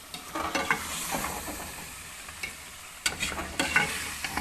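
Masala with yogurt sizzles in a pan for chicken biryani, with a steady frying hiss broken by several scraping stirs and spoon knocks, close and alone.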